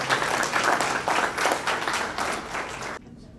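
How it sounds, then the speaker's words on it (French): Audience applause at an evening gathering, honoring the team that organized it: dense, steady clapping from a crowd for about three seconds, then cutting off abruptly. "Est-ce qu'on peut leur donner un applaudissement pour organiser cette soirée?"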